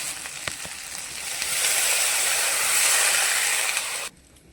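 Water poured into a pan of sizzling fried masala for a Bengali fish curry sets off a loud, steady hiss of steam and frying that swells for a few seconds, then cuts off abruptly.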